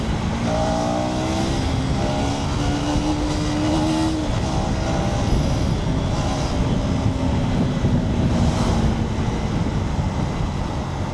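A KTM Duke 250 Gen 3 motorcycle engine drones loudly and steadily while the bike is ridden and manoeuvred through a tight space, its pitch rising and falling gently with throttle changes.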